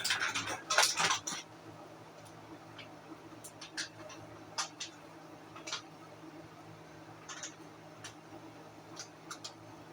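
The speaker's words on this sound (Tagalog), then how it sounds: "haluin po natin dahan-dahan yan" A utensil stirs banana pancake batter in a bowl, producing scattered light clinks and scrapes against the bowl, busier at first and then sparse and gentle.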